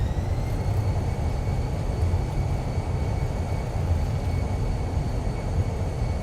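Fenix A320 in Microsoft Flight Simulator on its landing rollout with thrust reversers engaged, a steady, dense broadband roar with faint high whines, continuous and unchanging throughout.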